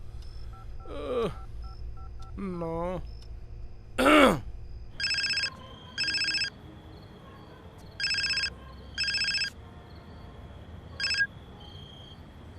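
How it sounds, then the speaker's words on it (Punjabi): Telephone call being placed: a few dial tones and beeps, then a ringback tone that repeats in regular rhythm with pauses, fairly faint over a room hum, with a brief spoken word early on. "ਲੱਗਦਾ ਫੋਨ ਹੀ ਕਰਨਾ ਪੈਣਾ"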